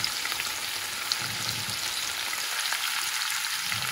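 Cabbage with ketchup and salt fries in a pan, giving a steady close hiss and crackle with faint stirring scrapes and no voices.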